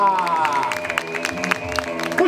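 Audience applause greeting a street magician at an outdoor festival competition, loud claps and crowd noise mixed under a voice speaking over a sustained musical tone.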